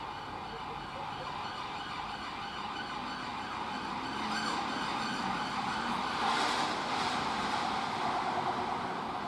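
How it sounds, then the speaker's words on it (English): Wailing police car sirens sound from a distance over a constant hum of traffic in Scotland, rising slightly louder midway through, with no one speaking. "Police cars on blues and twos."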